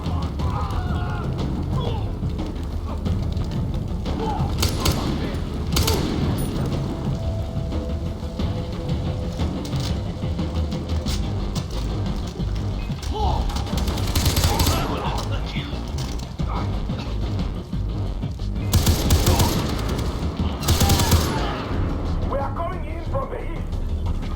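Machine gun fire in the Far Cry 3 video game, with several loud broadband bursts rising over a dense, clattering mechanical game soundscape, and a voice talking intermittently throughout.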